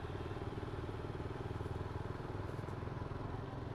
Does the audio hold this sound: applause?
no